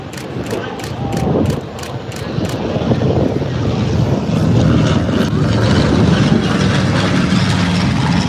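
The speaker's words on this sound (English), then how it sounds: "T6 section coming right by us." Formation of T-6 trainer aircraft passing at an airshow, a loud, steady propeller-engine drone that swells and holds close by for several seconds, with light crowd noise beneath.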